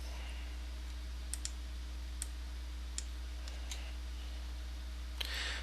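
A few sharp, faint computer mouse clicks land singly at irregular intervals while choosing from a drop-down box, over a low steady electrical hum.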